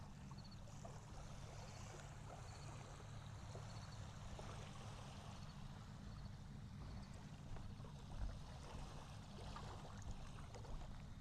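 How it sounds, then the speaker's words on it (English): Water flowing at the Potomac River by a park boardwalk, a quiet, continuous rushing and lapping wash with low rumble beneath, steady throughout with no talking. "And the water sounds amazing today."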